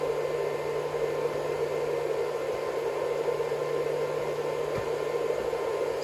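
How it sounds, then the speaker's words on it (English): Steady whirring hum of a 1200W 12V pure sine wave inverter's cooling fans under load, an even drone with faint tonal whine and no variation. "And the fans sound the same."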